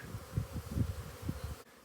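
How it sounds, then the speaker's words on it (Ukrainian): Honeybees buzz around an apiary of framed hives on a windy, unusually warm January day, a faint, low, wavering hum that swells and fades in quick pulses. "Вся пасіка гудить"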